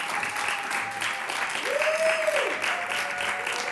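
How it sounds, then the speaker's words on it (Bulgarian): Studio audience on a Bulgarian Saturday-night TV show breaks into steady, dense applause that holds at an even level throughout, with a brief high tone sliding in and out partway through. "Аплодисменти!"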